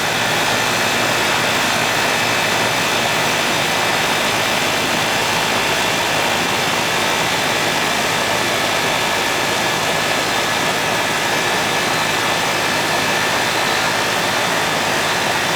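A Goodman air conditioner compressor, one with trouble starting, runs with a loud, continuous broadband whoosh and hum, steady and unbroken from start to finish and heard close up.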